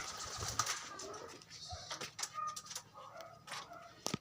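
Pigeons in a small loft, faint scattered cooing and fluttering amid a busy, noisy background, with soft repeated calls and light rustling throughout.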